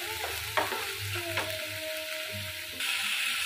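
Spice paste of ginger, turmeric, chilli, cumin and coriander powders sizzles and frys in a pan with a splash of water. Spoon stirs scrape and clink over the constant hiss, which grows brighter near the end.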